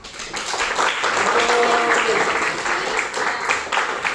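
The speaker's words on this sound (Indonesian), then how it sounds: "Ya, tepuk tangan buat." Classroom applause for a student group after a presentation in a high school economics lesson, a continuous wash of many hands clapping at moderate loudness, with faint voices underneath.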